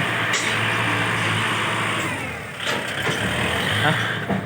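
A new farm tractor's engine runs loudly and steadily close by, a continuous broad mechanical roar with a slight dip midway.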